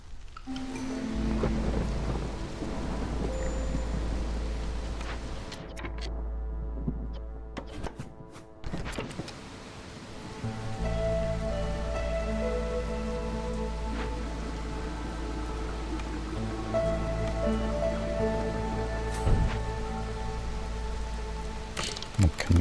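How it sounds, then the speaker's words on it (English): A thunderstorm sweeps over a village in the video game Against the Storm: steady heavy rain with deep rolling thunder, a brief near-silent gap, then the downpour resumes alongside layered sustained game music tones. "here comes the storm again."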